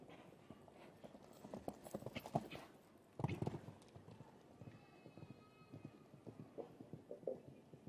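Hooves of a mare clip-clopping through a 1.45 m show jumping round, rhythmic thuds with a heavier landing thump midway, fairly distant under arena ambience and a commentator's voice.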